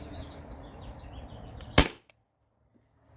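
A Sabre 68 home defense launcher powered by a 20 ounce CO2 tank fires one sharp, loud pop close by, followed by a faint click and near silence.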